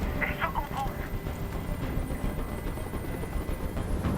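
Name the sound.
helicopter in Detroit Become Human video game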